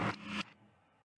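Raw sound sample played in reverse in Bandlab: a short burst of bright, scraping noise swells in two loud bursts, then trails into a quieter fading tail before cutting to silence.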